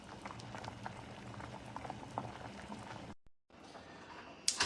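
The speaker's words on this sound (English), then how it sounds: "I'm going to put this on the fire for 20 minutes and let it boil" A pot of tomatoes, peppers and onion boiling in water on the stove, with steady close bubbling and popping that breaks off briefly, then resumes.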